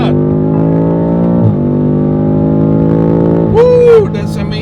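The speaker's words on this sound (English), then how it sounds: "Okay, let's accelerate again." A BMW F90 M5 accelerating hard, its engine note climbing steadily through two gear shifts with a brief dip at each change, loud and close from inside the car, with a voice exclaiming near the end.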